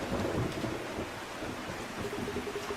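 Heavy rain pours in the video game Makoto Wakaido's Case Files, with thunder rumbling under the dense, steady downpour throughout.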